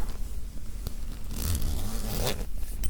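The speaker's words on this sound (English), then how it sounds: "The zip keeps dangling and hitting the microphone, the body of it, regardless of what position I put it in." A dangling hoodie zipper rattles and taps against the body of a close microphone, giving soft, uneven clicks and scrapes heard very near and alone.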